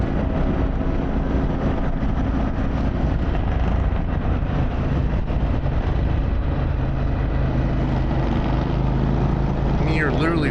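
An Indian Challenger motorcycle fitted with a Vance Hines exhaust rides on Bear Mountain, its engine giving a steady, loud, continuous drone with wind rush throughout and no let-up.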